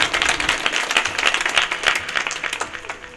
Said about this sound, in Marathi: टाळ्या वाजवा जरा मोठ्याने वाजायचं असेल.